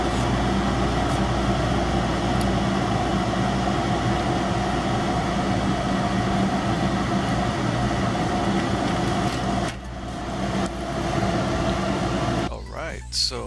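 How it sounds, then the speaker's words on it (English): A laser cutting machine works on robot chassis parts, giving off a steady loud mechanical hum and whir with constant fan-like drone and tonal whine, briefly dipping near the end. "This is some of the chassis being laser cut, and this is how they come out of the laser cutting machine."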